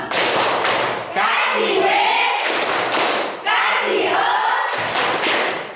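A classroom of students claps hands together on the teacher's count, two bursts of loud, dense group clapping, each lasting about a second and a half, with brief speech between them.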